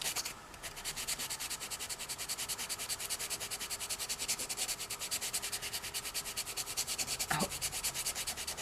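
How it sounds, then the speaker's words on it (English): Close, steady rubbing of sandpaper on a doll under restoration, a continuous rhythmic scratching that carries on throughout with one brief louder scrape near the end. "just important for me to see where I'm sanding and how successful I'm being right now"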